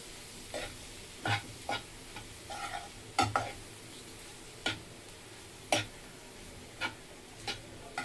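A spoon scrapes and clinks against a pan as turmeric is stirred into a dish, a sparse series of sharp, separate taps and scrapes over a faint sizzle, with no voices.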